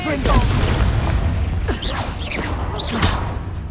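A Confringo fire spell blasts in Hogwarts Legacy amid a dense, continuous wash of booms, whooshes and bursts from a busy magical duel, with voices calling out over the combat.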